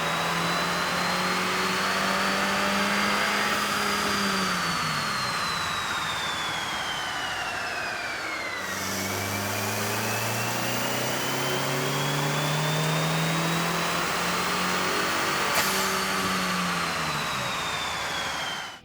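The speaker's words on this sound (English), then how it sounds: "we ran the vehicle on the dyno to test the sound comparison versus the stock intake" A Chevy Cruze 1.4L engine fitted with an aftermarket air intake runs on a dyno, revving up in long sweeping pulls with rising pitch, dropping off and climbing again, loud and steady with no talking.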